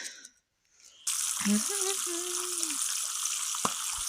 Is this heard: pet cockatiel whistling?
no